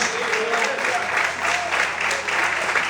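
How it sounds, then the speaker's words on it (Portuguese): Church congregation applauding during a morning service, a steady, dense wash of clapping from many hands that holds evenly throughout, with a voice or two faintly mixed in. "Se você acredita no poder desse Deus, aplauda e exalte ao Senhor nesta manhã de hoje"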